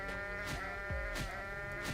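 A video game sheep bleats when punched, several short nasal bleats repeating in quick succession, loud and close, with no talking over them.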